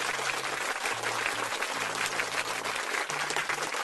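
An applause sound effect plays during a live stream, a continuous bed of crowd clapping with low tonal hums running beneath it.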